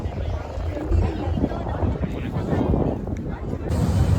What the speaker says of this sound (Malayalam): നമ്മളെ ബോട്ട് ഇതാ വീണ്ടും സ്റ്റാർട്ട് ചെയ്ത് തുടങ്ങിയിട്ടുണ്ട്.